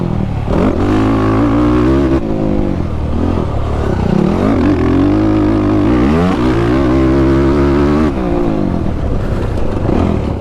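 A Yamaha YFZ ATV fitted with Obor tires rides a dirt track, its engine droning loud and close throughout with repeated revving swells and drops in pitch as it accelerates and eases off.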